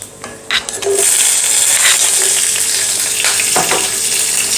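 Green chillies and whole spices sautéing in hot oil for a foxtail millet pulao, a loud steady sizzle close by, with a few stirring scrapes and clinks in the pan.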